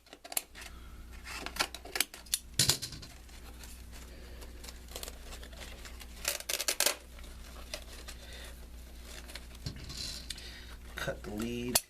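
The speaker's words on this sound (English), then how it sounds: "So we'll come through here, cut our leads, rip it the rest of the way." Cutters snip through the voice coil lead wires of a Rockford Fosgate T1/T2 car audio speaker during a recone, giving sharp clicks and snips amid paper rustling and handling noise, with a low steady hum underneath.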